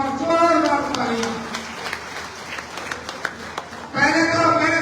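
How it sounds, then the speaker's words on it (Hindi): Rally crowd at a Congress party workers' meeting in Nawalgarh breaks into loose, scattered clapping between stretches of loud amplified speech from a man at the start and end. "सब कार्यकर्ता मुझे एक बार जोरदार तालियां"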